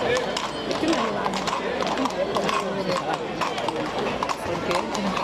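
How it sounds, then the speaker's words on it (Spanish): Ponies pulling a cart clip-clop along in a quick, steady rhythm close by, while people keep talking over the hoofbeats. "¿Vosotros vais a subir un carro con ponis, no con caballos?"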